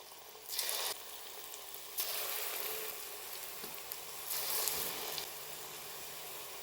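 Wheat-flour Mysore bonda batter fries in hot oil, giving a steady close sizzle and crackle that swells in brief louder bursts, with no voices.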